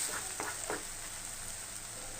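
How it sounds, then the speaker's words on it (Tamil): Thinly sliced onions sautéing in oil with cinnamon and cloves, a soft steady sizzle with a few brief stirring scrapes near the start, fairly quiet and with no talking. "பெரிய வெங்காயத்தை நல்லா மெலிசாக கட் பண்ணிவிட்டு அதை வதக்கி விட்டுக்கலாம்."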